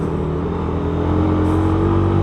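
Suzuki Raider 150 motorcycle engine with a noisy head running steadily nearby, a dense low rumble that rises slightly in loudness partway through, with no voices.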